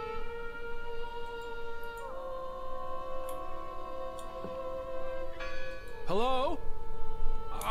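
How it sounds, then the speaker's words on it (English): Bell tones ring out in the horror video game Draugen, sustained and resonant with a few changes in pitch, then a wavering bent tone near the end, fairly quiet over a low background hum. "I heard the bell."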